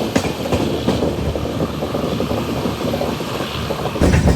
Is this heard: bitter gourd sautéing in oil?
no